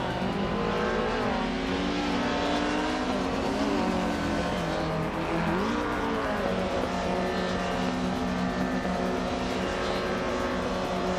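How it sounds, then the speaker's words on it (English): Engine of a 1999 Peugeot 306 Maxi rally car in a racing video game, a steady loud drone with rising and falling pitch as it revs through gears, continuous throughout with no talk. "PP Langstrom is driving a 1999 Peugeot 306 Maxi"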